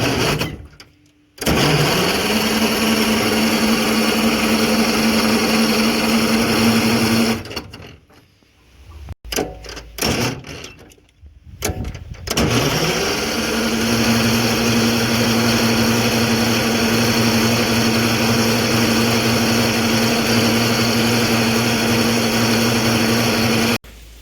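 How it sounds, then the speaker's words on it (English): An engine on a silversides bus that sat idle for a year cranks over and catches, running with a steady harmonic drone, cutting out briefly twice, then restarting and holding a loud, even idle to the end. "Okay, we've cranked it over a little bit here."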